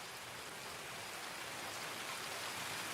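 Steady heavy rain falls in the game Escape from Tarkov, a dense and even hiss that doesn't let up for the whole stretch. No voices can be heard.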